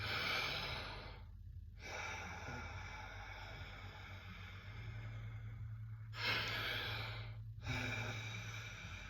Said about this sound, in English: The other one is to control the exhale